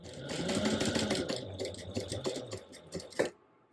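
A sewing machine top-stitches vinyl an eighth of an inch from a fold, a quick rhythmic clatter of the needle that runs for about three seconds and then stops, close and moderately quiet.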